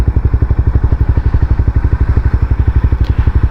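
A Honda CBR300 motorcycle in first gear, its engine close and loud with a fast, even pulsing thump that stays steady throughout.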